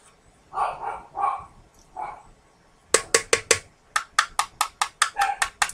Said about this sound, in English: You're going to bark at everybody that goes by because my windows are open.